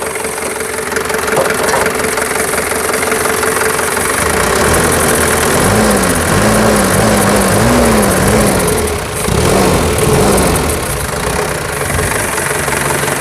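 A 1983 Daihatsu Taft Kebo F50 4x4, already warmed up, idles with a steady, loud, close mechanical rumble and a slightly uneven knocking pulse that wavers briefly midway.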